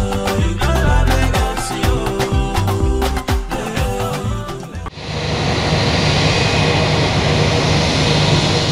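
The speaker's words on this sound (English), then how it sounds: "The Duke of Cornwall's plane touched down at about 12:08 p.m. at the presidential wing of the Murtala Muhammed Airport's domestic wing" A jet aircraft carrying the Duke of Cornwall lands at Murtala Muhammed Airport in Lagos, first with loud music and crowd noise over it, then giving way to a steady, loud engine roar and rushing wind.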